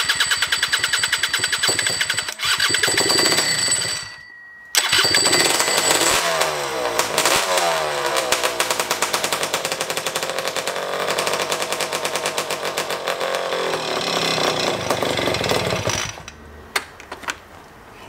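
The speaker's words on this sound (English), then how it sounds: "considering it doesn't have a fuel tank, but it's definitely running. It sounds pretty angry." A modified scooter engine, running on its first start without a fuel tank, fires in a loud, harsh, rapid rattle at close range. It sputters briefly, restarts and keeps running roughly before cutting out near the end.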